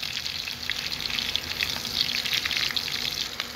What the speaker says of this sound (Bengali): তো দেখুন আমটা আমার প্রায় হালকা ভাজা হয়ে গেছে